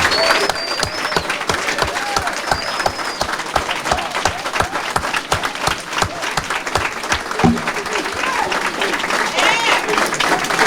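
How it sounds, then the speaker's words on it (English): A crowd at an awards event applauds a group of mentors, with loud, dense clapping and sharp individual claps close by, plus cheers and whoops throughout before it begins to taper near the end. "please give these New Boy mentors a round of applause"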